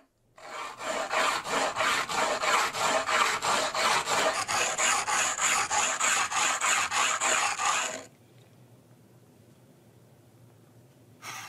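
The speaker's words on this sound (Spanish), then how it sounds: "El lijado era el sonido que se oía desde lejos cuando uno se acercaba a un asentamiento neolítico." A Neolithic-style ring is sanded by hand in close, rapid back-and-forth rasping strokes, a steady rhythmic scraping that runs for about eight seconds, then stops abruptly, leaving quiet room noise.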